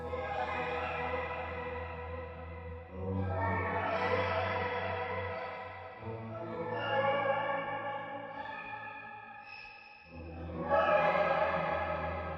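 Guitar processed through glitchy reverb and modulation effects pedals placed before the amplifier, with warbling, echoing sustained tones that shift and glitch across several phrases, with no talking.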